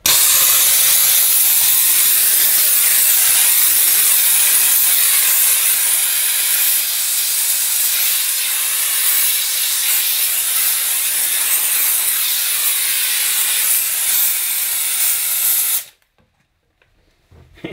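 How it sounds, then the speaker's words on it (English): A Dupray Neat steam cleaner hisses loudly and steadily while steaming a kitchen hob, a continuous broadband jet of steam lasting about sixteen seconds before cutting off abruptly into near silence. "I might be able to just get away with steaming the whole area and wiping"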